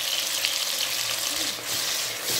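Dough pastries frying in oil in a covered pan, a steady soft hiss and crackle of sizzling with no pauses, close and moderately loud.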